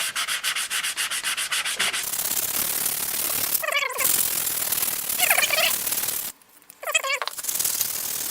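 Steady back-and-forth rubbing as fine sandpaper works scratches out of an Opel GT gas cap, the strokes continuous and close, with a couple of brief pauses.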